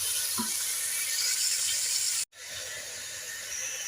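Green chillies and a tomato fry in a pan for a kaddu chicken dish, giving a steady, close broadband hiss and sizzle that cuts out briefly midway, then resumes slightly quieter.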